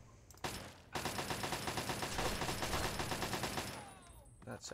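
Hand cannon gunfire in Fallout 3, a rapid, evenly spaced string of loud shots lasting about three seconds, preceded by a single blast and trailing off into faint echo.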